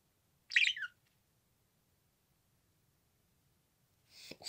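A pet budgie gives a short, bright chirp close by, then falls silent before a second fainter burst of chattering begins at the end.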